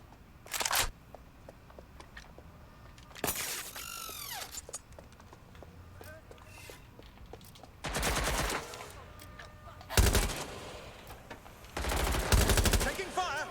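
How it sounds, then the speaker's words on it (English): Automatic gunfire from the video game Watch Dogs Legion rattles out in five loud, separate bursts, with quieter game ambience between them. "Taking fire."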